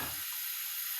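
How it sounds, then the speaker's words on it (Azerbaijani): Chicken livers are frying and being stirred in a hot pan. A brief, close sizzle opens with a low scrape or thump, then settles into a steady hiss. "üzərinə ciyarlarımızı əlavə edirik və bir yerdə qarışdırırıq"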